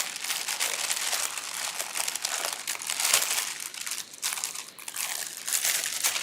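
Tacky wrap packaging is handled close up with continuous loud crinkling and crackling that keeps on without pause for several seconds.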